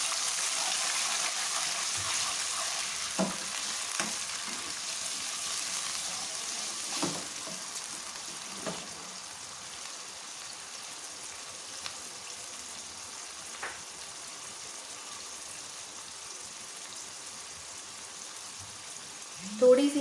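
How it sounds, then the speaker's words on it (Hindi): Onions frying in a pan with garlic-ginger paste added, for an aloo gobi dish; a steady soft sizzle runs throughout with a few small clinks and stirring knocks, and a louder scrape near the end. "प्याज हमारे फ्राई हो गए हैं। लहसुन अदरक का पेस्ट डाल दें,"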